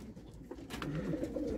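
Pigeons coo in a loft, low throaty warbling calls close by over faint background noise, with no talking.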